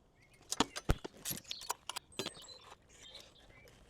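Two 10mm bolts on a Ford Mondeo are loosened by hand, giving quiet, close metallic clicks and clinks in scattered bursts, with light tool rattling and no talk.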